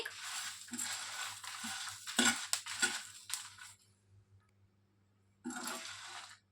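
Whole spices dry-roast on a low flame for a masala powder, with bursts of scraping and rattling as they are stirred in the pan, then a near-silent pause before another short stir.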